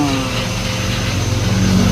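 A vacuum cleaner runs close by with a loud, steady whirring roar and a faint rising whine, continuous throughout with no pauses.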